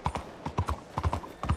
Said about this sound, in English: I keep forgetting how fast my horse is.